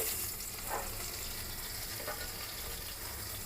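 Dried chili pieces sizzle in hot oil for a Bengali roasted eggplant (begun pora) dish, a steady close hiss of frying that runs throughout with faint stirring clicks and no voices.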